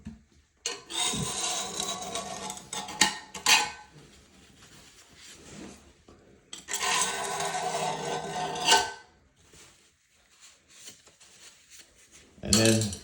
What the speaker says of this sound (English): take your putty knife here and scrape it off